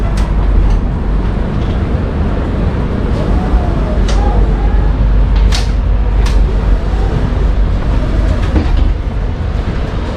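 Steady low rumble of an Indian Railways first class AC train running between Kolkata and Delhi, with a continuous broadband roar, faint rhythmic wheel clatter and a few sharp high clicks, heard from inside the coach.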